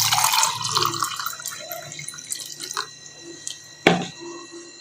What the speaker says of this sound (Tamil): இதை இப்போ ஒரு டம்ளரில் ஊற்றி